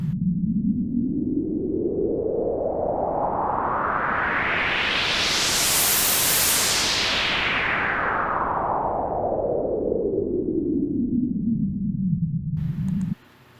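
A white noise riser effect built in FL Studio, a broad rushing hiss that sweeps upward to a bright peak midway and then falls back down, loud and alone before cutting off abruptly.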